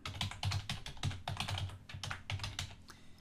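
Rapid clicking of computer keyboard keys typing an email recipient's name, close and continuous with brief pauses, no voices.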